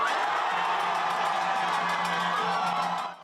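A large crowd in the 5.18 Square in Gwangju erupts in loud, sustained cheering with whoops and shouts. The emotional roar stays thick and steady, then drops away at the end.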